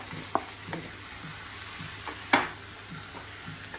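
Marinated chicken sizzles in a hot pan with small onions and curry leaves, a steady frying hiss punctuated by a few sharp scrapes and clinks of stirring, close and fairly quiet with no voices.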